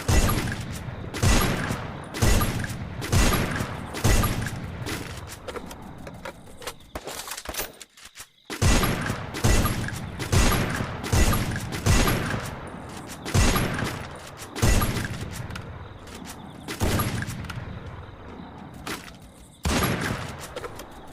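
Rapid gunfire from the Free Fire battle royale game, a steady run of sharp, loud shots in quick bursts, with one short pause before the firing resumes.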